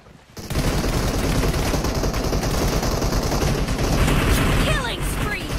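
Continuous rapid gunfire in a mobile shooter team deathmatch, loud and sustained automatic bursts after a brief quiet start, with faint game effects mixed in.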